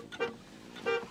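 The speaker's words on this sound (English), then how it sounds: "Should you honk the horn?" A car horn gives two short honks about half a second apart, fairly quiet and slightly distant, with no talking.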